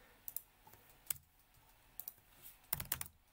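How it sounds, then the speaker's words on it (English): Someone types on a computer keyboard while working on VyOS router commands, producing sparse, quiet key clicks with a quick burst of several taps near the end. "when you're typing this, you're probably going to be tabbing your way through it"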